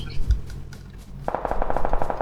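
Rapid automatic gunfire rattles in the battle royale game PUBG Lite, a fast, even burst of shots that starts partway through after a few scattered thumps and a voice.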